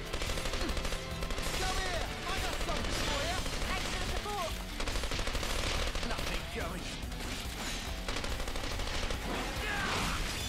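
Rapid, continuous machine gun fire with explosive bursts in a Xenoblade Chronicles 3 battle, loud and dense throughout alongside game effects, with voices faintly mixed in.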